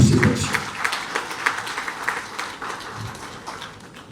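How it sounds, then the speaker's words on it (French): Seated audience at a government address in Kinshasa applauds, a moderate patter of clapping that starts fuller and gradually thins out over a few seconds. "je vous prie d'applaudir les chefs de l'État pour cette action."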